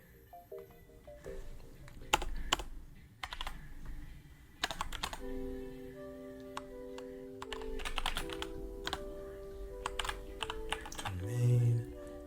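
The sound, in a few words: typing on a computer keyboard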